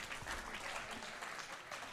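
A crowd at the IPF World Open Classic powerlifting meet clapping and cheering steadily, a dense, even wash of applause filling the room from start to finish.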